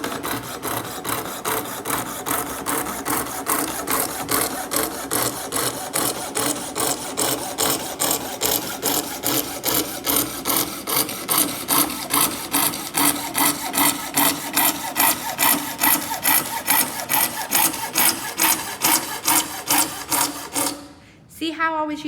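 A coping saw cuts through wood in a fast, regular back-and-forth rhythm, strokes repeating steadily and close, with a brief pause near the end.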